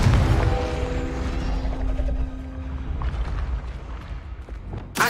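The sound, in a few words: Confringo spell cast and explosion in a video game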